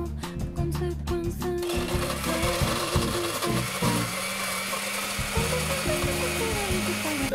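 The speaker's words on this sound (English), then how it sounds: "What is this, like a modern day blender?" A motorized blender whirs steadily while mixing icy margaritas, its grinding hum continuous after a few quick clattering pulses at the start, close and fairly loud throughout.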